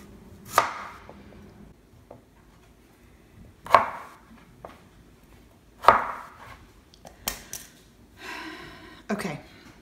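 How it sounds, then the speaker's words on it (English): A knife chops firm rutabagas on a board in sharp, irregular thuds a few seconds apart, close by, with quiet handling sounds between. "I'm going to chop them"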